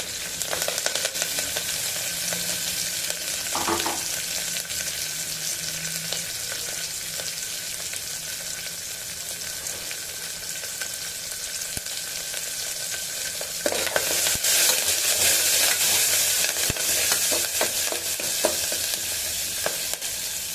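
Onion and dried red chillies fry and sizzle in hot oil for a spice tempering, with steady close crackling, occasional stirring scrapes and a brief louder burst of sizzle toward the end.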